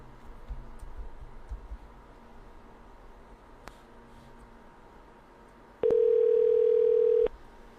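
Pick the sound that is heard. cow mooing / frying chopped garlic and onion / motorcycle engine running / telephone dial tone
telephone dial tone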